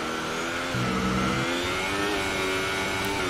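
A race car engine in a sim racing game on the Russian GP circuit, revving loud and continuous with a brief pitch shift like a gear change, heard alone without talk.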